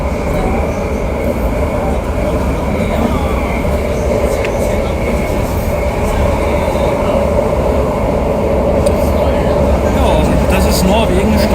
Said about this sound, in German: Klingen ja meistens ähnlich die Züge